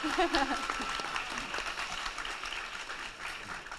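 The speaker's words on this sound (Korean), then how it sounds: "박수 쳐도 좋을 것 같은데요." An audience at a Korean intellectual property talk concert claps in a dense, steady wash, with a few vocal sounds at the start.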